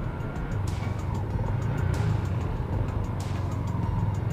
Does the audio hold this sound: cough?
no